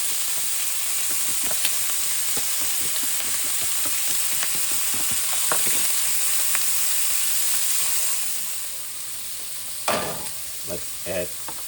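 Chopped onion frying in a pot for German mushroom soup, a continuous loud sizzle with scattered stirring clicks and scrapes, easing slightly toward the end.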